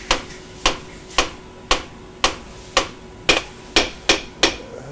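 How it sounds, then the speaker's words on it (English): A hammer taps a metal engine insert home over a hole, about ten sharp, evenly spaced knocks that ring briefly, close up with no talking. "it's just a matter of using our good old friend, the hammer"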